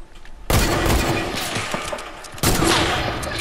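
Two loud hunting rifle shots in a video game crack out about two seconds apart, each blast followed by a long, fading rumble that fills the space between them.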